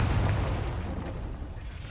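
A Confringo blasting spell explodes in the Hogwarts Legacy video game, a broad, heavy boom that rumbles and fades steadily over about two seconds.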